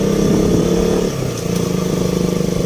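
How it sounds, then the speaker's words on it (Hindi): A motorcycle engine runs steadily on a hill road, a low close drone with a slight drop in pitch partway through. "हिल साइड में पूरा गाड़ी का साउंड ही चेंज हो जाता है"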